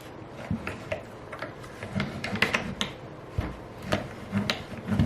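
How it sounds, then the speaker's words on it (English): Layered cardstock fed through a small hand-cranked die-cutting machine, a close series of irregular ticks, creaks and rubbing clicks as the plates move through the rollers. "So we're just going to die cut this."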